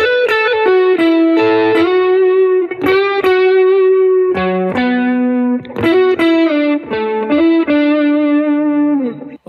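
A synthesized lead melody plays alone, a series of bright, sustained, harmonically rich notes stepping between pitches with short gaps, loud and close.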